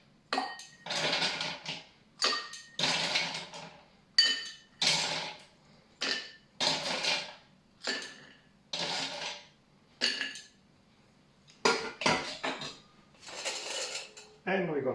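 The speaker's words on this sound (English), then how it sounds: "We're gonna add plenty of ice to our drink." Ice cubes drop one after another into a mezcal negroni, sounding as a string of separate bright clinks and rattles against glass, close and loud, with short silent gaps between them.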